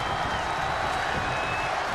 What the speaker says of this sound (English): And listen to this capacity crowd